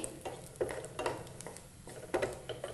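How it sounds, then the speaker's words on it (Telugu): Cashew pieces fry in oil in a pan for potato korma while a spoon stirs them, giving soft sizzling under repeated close scraping strokes at an uneven rhythm. "ఆయిల్లో ఇవి లైట్గా బ్రౌన్ కలర్ వచ్చేంత వరకు వీటిని వేయించుకొని"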